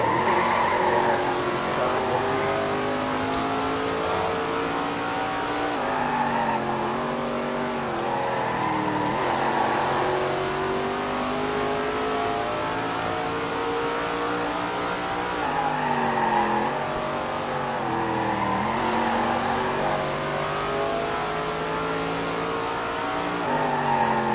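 Race cars in a PS4 racing game rev hard and shift through gears for a long stretch, engines rising and falling with short tire squeals and skids, loud and continuous, with faint commentary underneath.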